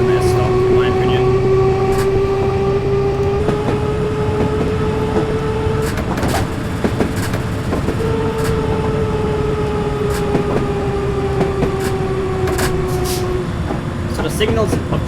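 A London Underground Circle Line train runs in Train Simulator 2020, its traction motors whining in a rising and falling tone over rumbling rails and clicks, while someone talks over it.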